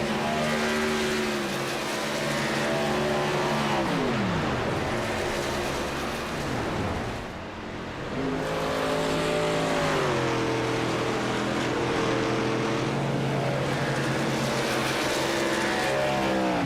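Racing trucks roar around an oval track in a contender series race, engines rising and falling through repeated upshifts and a brief lull as the pack passes, loud and close.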